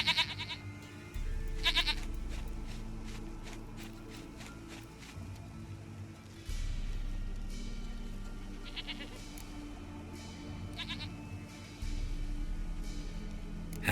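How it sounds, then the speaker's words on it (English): A goat in the video game The Witcher 3: Wild Hunt bleats repeatedly, short wavering cries spread across the clip over a steady low game ambience and music bed. "Goat of mine, dearest,"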